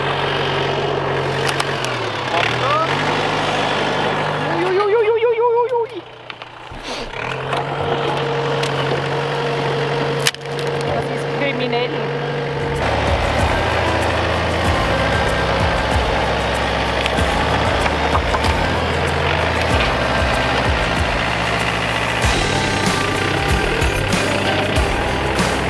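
A tractor engine idles and runs in a vineyard, a steady mid-pitched rumble with a rising whine partway through and shifting load later on, close and continuous.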